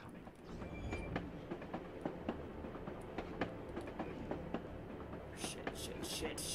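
A passing train rumbles through the Assassin's Creed Chronicles Russia game, a steady rolling roar with repeated clacking beats and a few sharp hissy bursts near the end.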